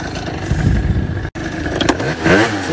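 A scooter engine revs close by in loud bursts, with a short cutout in the middle before it picks back up and climbs again.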